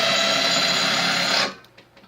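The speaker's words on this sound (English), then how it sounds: "I used a step drill to get it all the way through" A steady, loud, high-pitched drill whine as a step bit bores into stainless steel, cutting off abruptly and leaving faint clatter behind.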